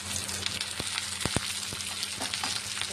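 Curry leaves dropped into hot oil for a cucumber, drumstick and tomato curry, giving a steady close sizzle with a few sharp crackles and pops and no voices.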